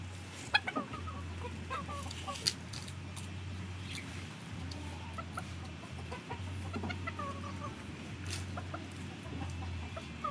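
A chicken clucks in short soft bursts close by, with low steady hum and occasional handling noises around it.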